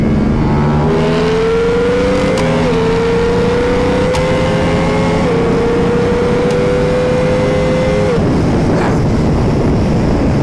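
A 2024 Ducati Multistrada V4 RS V4 engine revs high and loud toward 13,500 RPM, its pitch climbing in steps through gear changes for about seven seconds before backing off, with wind noise and no talking.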